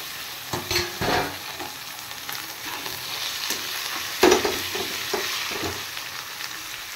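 Cut chicken pieces hitting a pan of hot oil with chopped garlic and ginger for chicken pulao, a steady close sizzle broken by clinks and scrapes of stirring, with no talking.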